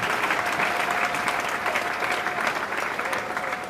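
A church audience at a mausoleum memorial bursts into loud, sustained applause, dense clapping from many hands that holds steady without pause.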